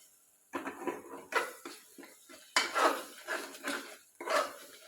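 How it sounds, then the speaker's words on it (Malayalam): Meat masala, pepper powder and coriander powder being sautéed in oil in a pan, heard as irregular close scraping and clinking bursts of a utensil against the metal pan with short pauses between strokes. "ഇതിലേക്ക് ഇനി ചേർക്കുന്നത് മീറ്റ് മസാലപ്പൊടി പിന്നെ കുരുമുളക് പൊടി ശകലം മല്ലിപ്പൊടിയും കൂടെ ചേർത്ത് നല്ലപോലെ എണ്ണയിലിട്ട് വഴറ്റും"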